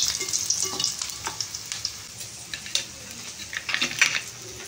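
Salted fish frying in hot oil, a steady bright sizzle with crackles and occasional stirring scrapes, loud and close, no talk.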